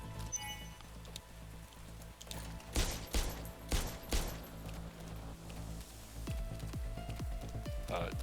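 Gunfire in the horror video game Parasite Mutant, a few quiet muffled shots over a low ambient drone and game background noise, fairly faint.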